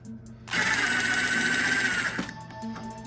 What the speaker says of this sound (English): we're going to loosen this bolt here real quick. So I got a 7mm socket